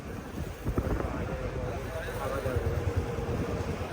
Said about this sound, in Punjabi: ਹਵਾ ਚੱਲ ਰਹੀ ਹੈ